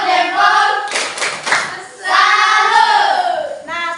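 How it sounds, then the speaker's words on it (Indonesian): Classroom applause for the fourth student group, a short burst of clapping hands from the class between stretches of loud talk, with voices before and after. "coba berikan aplausan untuk kelompok keempat. Tepuk tangan."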